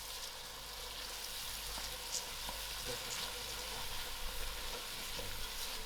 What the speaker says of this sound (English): I will allow this to fry for a few seconds. My lentils has came to a fry.